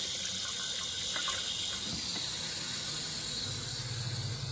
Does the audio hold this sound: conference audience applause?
no